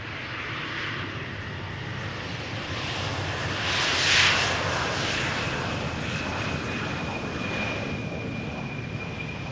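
A passenger airliner arrives on the Polderbaan runway at Amsterdam Schiphol on a sunny day, its engine roar steady and broad throughout, swelling slightly as it passes near, with some wind on the microphone and no talk.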